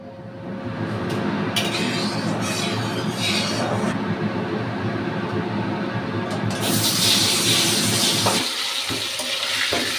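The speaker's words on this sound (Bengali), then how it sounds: "কারণ চিমনির আওয়াজে আমার আওয়াজ শোনা যাবে না।" A kitchen chimney exhaust hood runs while chicken kosha is cooked, giving a steady, loud whooshing fan drone that fills the whole stretch, with a brighter hiss rising toward the end.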